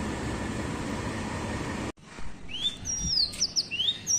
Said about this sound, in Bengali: দেখো পাখিটা কি সুন্দর ডাকছে